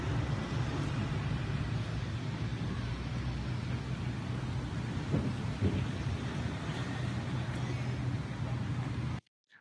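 Steady rain falls in an AI-generated downpour, a dense continuous hiss with a low rumble of thunder beneath and a couple of brief louder swells, cutting off abruptly at the end.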